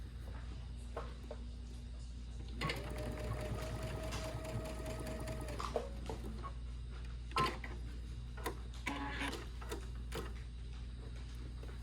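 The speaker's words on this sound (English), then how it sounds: "I'm gonna sew straight across. I just like the extra reinforcement." A sewing machine stitches straight across a scrappy hexagon potholder in one sustained, even-paced run of needle chatter, with quieter clicks and handling noises before and after.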